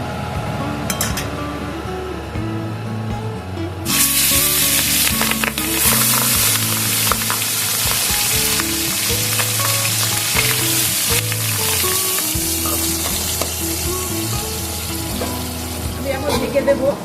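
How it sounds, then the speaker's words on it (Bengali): Pabda catfish frying in hot oil, a loud close crackling sizzle that jumps sharply as the fish goes in and keeps spitting steadily, with occasional clinks and stirring. "এখন আমি মাছগুলো ভেজে নেব"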